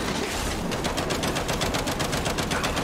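Turret gunfire in Gears 5 rattles as a rapid, evenly spaced burst of loud shots running through the whole moment without a break.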